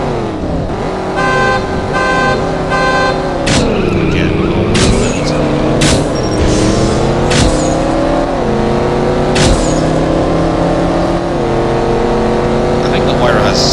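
A Pagani Huayra with a seven-gear transmission races in the CSR Racing game, its engine roaring loud and close. It climbs through repeated upshifts with rising revs and brief drops, over a steady game soundtrack.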